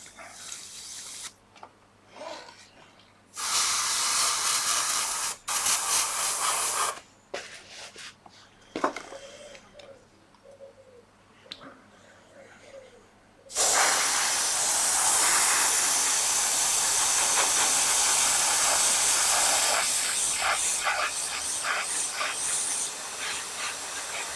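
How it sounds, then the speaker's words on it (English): An airbrush loaded with thinned paint lightly mists a Mandalorian (Mando) model in short, steady hissing bursts that give way to a long continuous spray, close to the microphone. "You're just lightly spraying over it. You're not going heavy."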